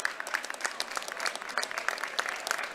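Crowd applause at a high school regional boys basketball game in a gym, steady clapping from the stands with sharp individual claps standing out, moderately loud and continuous as a senior player leaves the floor.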